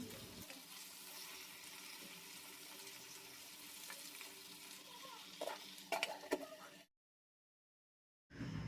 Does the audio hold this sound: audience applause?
no